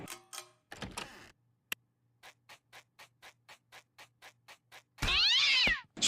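A cartoon cat named Cliff meows loudly near the end, a strained, wavering yowl after a run of soft, evenly spaced ticks and a few brief bumps in an otherwise quiet night scene.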